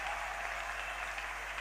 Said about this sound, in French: Est-ce que tu peux acclamer encore plus fort?